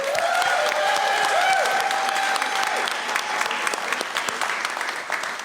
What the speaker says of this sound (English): One more big round of applause for them.